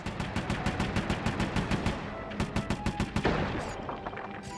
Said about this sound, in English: I upgraded my grapple cam with one of your RC turrets. I should be able to blast them to pieces.